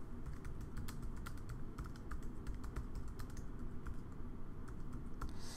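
Rapid, irregular keystrokes on a computer keyboard while entering text with a website editor's text tool, steady clicking taps close by with no voices.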